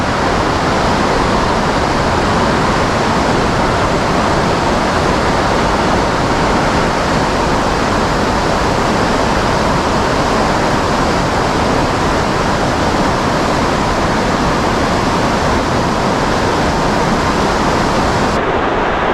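Fast rapids on the Lady Evelyn River roar in a dense, unbroken rush of water, loud and close, steady for the whole stretch with no voices.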